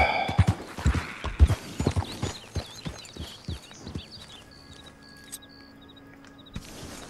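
Horse hooves gallop in the Red Dead Redemption 2 video game, a fast, close clip-clop of heavy hoofbeats that slows and fades, with faint game ambience and a few soft synthetic tones afterward.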